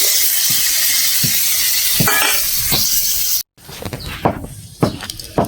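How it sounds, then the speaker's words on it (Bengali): Cauliflower and potatoes frying with turmeric being stirred in a pan, with scraping, rubbing stir strokes over a steady sizzle, then a short break followed by sparser, sharper scrapes. "কপিটা ভাজার সময় অল্প হলুদ দিয়ে দেব। হলুদটা দেওয়ার পর একটু নেড়ে চেড়ে নেব, যাতে হলুদটা কপি আলুর মধ্যে মিশে যায়।"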